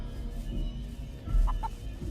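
A chicken gives a couple of short, soft clucks nearby over a low background rumble.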